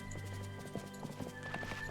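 Horse hooves clip-clop and a horse neighs in the Disney Dreamlight Valley video game, soft, uneven steps over a quiet musical background.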